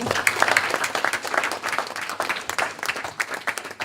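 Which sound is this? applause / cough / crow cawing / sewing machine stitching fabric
applause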